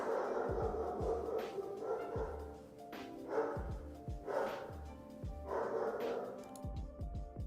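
Dogs bark and yip several times indoors, somewhat muffled as if from upstairs, in a few short bursts over a steady room hum.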